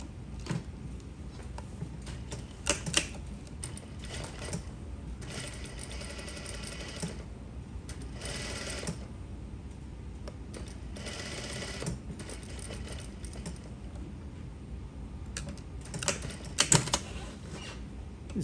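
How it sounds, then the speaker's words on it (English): A sewing machine runs in bursts of stitching as it understitches fabric edges for an exposed zipper, its steady mechanical whir starting and stopping between quiet pauses. "I'm going to lift the edges up one by one and understitch it here before I flip it"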